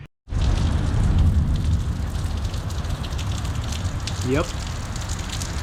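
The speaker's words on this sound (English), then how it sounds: "It is raining cats and kittens today" Heavy rain pours steadily outside a garage, a dense continuous hiss and patter that starts abruptly and holds loud throughout, with a brief spoken word partway through.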